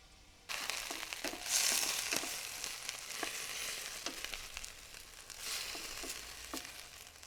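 Chicken korma pieces frying in a covered pan make a moderate, close sizzle that starts abruptly and continues with occasional crackles and a few small clinks, without talk.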